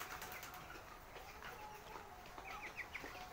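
Broiler chickens, 27 days old, cluck faintly inside a farm shed on a winter evening: soft, scattered clucks and a few short chirps near the end over a low, steady background hush.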